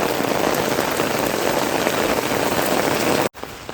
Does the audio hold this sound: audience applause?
no